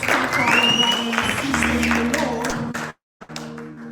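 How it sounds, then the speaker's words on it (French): Church congregation applauding during a bilingual service, with clapping mixed with voices and music, followed by a short pause and then a resumed tone. "Let's clap for our brothers and sisters in the Lord."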